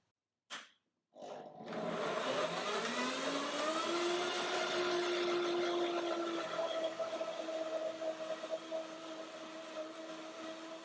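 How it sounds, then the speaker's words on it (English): German Revo countertop blender starting with a couple of clicks, then whirring steadily for several seconds with a motor whine that climbs in pitch and settles, loud and close. "It's a Revo blender, revolutionary blending from Germany."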